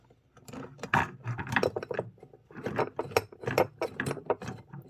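Nuts being loosened and unscrewed from a traction motor on a toy train locomotive, a rapid series of small close ratcheting clicks and metallic scrapes in uneven bursts, with no talk.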